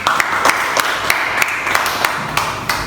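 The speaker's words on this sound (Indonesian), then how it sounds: "Aplaus untuk kita semua." A classroom of students claps together in a school lesson, a steady rhythmic applause with regular sharp beats carrying on throughout, close and fairly loud.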